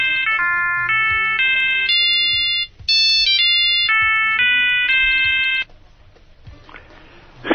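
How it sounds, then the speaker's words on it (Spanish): A telephone ringtone plays a loud, clear melody of stepped electronic tones for a live radio call, then stops and leaves a quieter background with a brief rustle at the end. "Vamos a llamar a Mr. John Richardson Richards"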